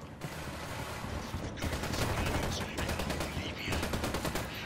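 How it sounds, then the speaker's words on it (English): Sustained automatic gunfire in Ghost Recon Wildlands during a desert firefight, loud rapid bursts with a short gap near the start, a dense rattling barrage at close range. "Opening fire!"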